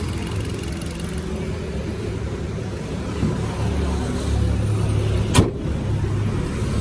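A 2016 Kia Rio SX with a 1.4 petrol engine idles smoothly, giving a steady, even hum that stays constant throughout, with one sharp click near the end.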